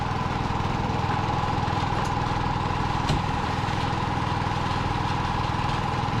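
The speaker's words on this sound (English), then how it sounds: "This compressor's still running" Air compressor running at a job site, a steady droning engine-like hum with a constant rhythmic chug, close and unchanging throughout.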